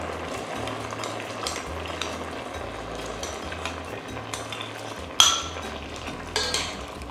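Cooked catarino beans go into a pan and get stirred, with a soft steady sizzle, light scraping of a utensil and one sharp clank of metal against the pan near the end.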